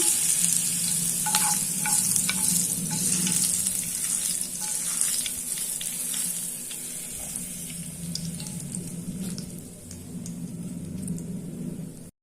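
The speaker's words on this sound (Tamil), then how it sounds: "இப்போ நம்ம தாளிப்பை இந்த சட்னியில் சேர்த்துடலாம்" A tempering of curry leaves in hot oil, poured into small-onion chutney, crackles and sizzles loudly, with sharp pops early on, then settles into a continuous fry that fades slightly toward the end.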